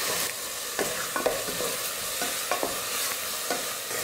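Garlic, chilli, tomato and curry leaves sauté in a shallow layer of oil, a steady broadband sizzle broken by regular clicks and scrapes of a spoon stirring the pan, close and fairly loud.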